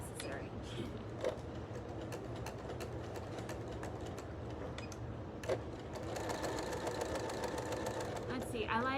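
A sewing machine stitches and backstitches fabric for a wine bag, running as a steady mechanical whir with a few sharp clicks, then a louder, busier stretch near the end.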